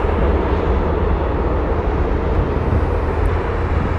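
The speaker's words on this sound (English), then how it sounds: "Sounds like a heavy coming in." A heavy jet airliner arrives at Toronto Pearson airport, its engines giving a loud, broad, steady roar that stays close and even throughout with no talk on top.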